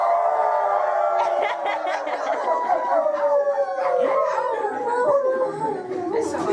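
Middle school students imitate a wolf howl together, a chorus of overlapping rising and falling voices mixed with giggles and laughter, loud and close.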